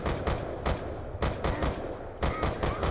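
A three-round burst weapon in the multiplayer shooter Black Ops II fires several rapid, loud bursts close by, each with a sharp crack and short decay, evenly spaced across three seconds.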